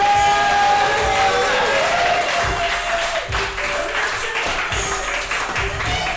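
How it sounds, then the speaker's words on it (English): Audience applause for comedian Dimitri Bennett at a Chicago stand-up show, a loud sustained wash of clapping from the crowd with scattered cheers and a voice speaking over it, gradually thinning toward the end. "Make your hands loud for Dimitri Bennett"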